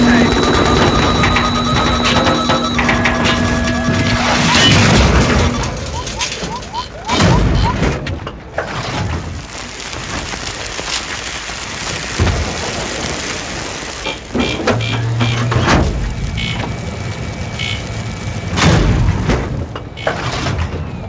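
Tank combat in a vehicular warfare video game: continuous rumbling engine and track noise with repeated heavy booms and thuds, loud and close, while players talk over it.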